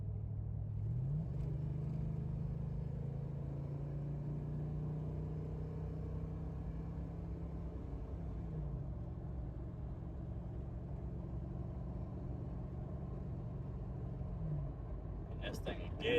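An OBS Ford truck fitted with a cheap aftermarket muffler and a new tune drives steadily, its low exhaust rumble droning continuously with a couple of shifts in engine pitch, close and loud throughout.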